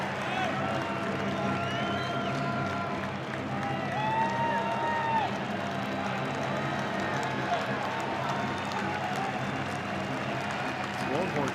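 Texas Longhorns home crowd at a college baseball game against Oklahoma, a steady broad roar of cheering voices with some whistles rising above, sustained throughout with commentary talk over it.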